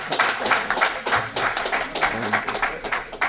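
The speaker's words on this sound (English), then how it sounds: "Give him applause." An audience at a Pan-Africanism forum claps in a brief, uneven burst of applause, the individual claps distinct and moderately loud, with faint voices mixed in.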